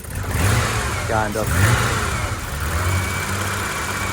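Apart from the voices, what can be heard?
BMW 635 CSi engine idling and revving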